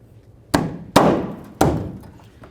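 A plastic tail light on a 1999-2007 Ford F-250 tapped into place with three sharp, close knocks, each with a short resonant tail, spaced irregularly over a quiet background.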